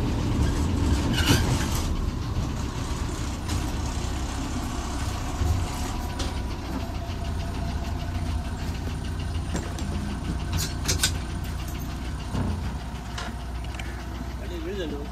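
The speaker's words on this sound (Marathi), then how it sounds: "फायनली मित्रांनो गाडी आली आहे उंडील तिट्यावर" An MSRTC ST bus pulls into a village stop on a Konkan road, its engine a constant loud, close rumble with rattling body noise throughout, while people speak nearby.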